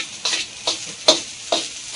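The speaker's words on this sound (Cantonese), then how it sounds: "佢不斷咁樣旋轉住隻鑊鏟係咩事咧？" A wok spatula stirs fried rice in a wok, making five evenly spaced, sharp scraping strokes about every half second over a faint background sizzle.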